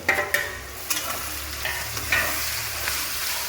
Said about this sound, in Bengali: টমেটো কুচি, লঙ্কা আর আদা বাটা দিয়ে কষিয়ে নেব